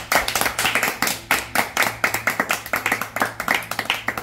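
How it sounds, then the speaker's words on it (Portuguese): A small group claps in a quick, regular rhythm of sharp, close hand claps for a few seconds, steady and fairly loud, with little else heard. "Por isso eu peço uma salva de palmas pra ela."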